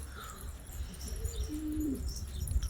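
Pigeons coo softly at close range, a few low rolling coos over a quiet outdoor background with faint chirps.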